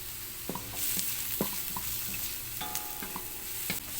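Onion and garlic stirred and sautéed in a pan for creamy carbonara, a steady sizzle under scattered scraping taps of a spoon against the pan, close and fairly quiet, with no talking.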